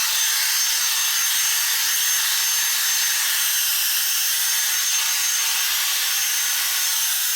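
A hair dryer blows steady, loud air during a blow-dry of dry, frizzy hair, a constant broadband whoosh holding evenly for the whole stretch with no voices.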